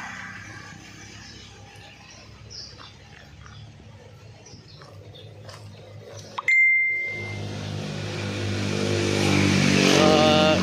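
A 2025 Bajaj RE 236cc single-spark-plug engine starts with a sharp catch after a quiet stretch, then settles into a steady running drone that grows gradually louder and busier toward the end.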